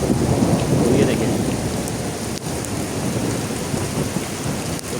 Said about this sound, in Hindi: और शदीद बारिश आ चुकी है